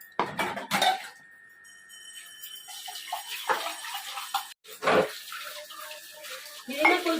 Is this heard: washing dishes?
yes